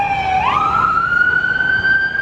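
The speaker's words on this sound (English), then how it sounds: "Pardon the siren." An emergency vehicle siren wails outside, its tone sweeping upward and holding a rising pitch, moderately loud and continuous with no talk.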